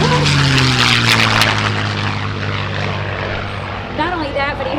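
P-51D Mustang warbird "Cincinnati Miss" with a propeller engine, flying in to land at a warbird show, its loud, steady drone sliding downward in pitch as it passes, with a voice talking over it near the end.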